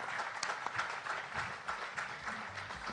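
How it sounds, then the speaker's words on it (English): An audience at an HR technology conference applauds a panel, with soft, fairly distant, continuous clapping heard alone. "I want you guys to give the panel a big round of applause"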